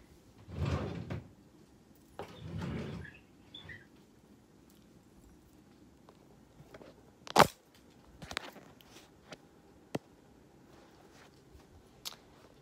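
Drawers being opened and closed while organizing clothes at home, a series of sharp wooden knocks and slides spread unevenly across the stretch, fairly close, with rustling in between and no talk.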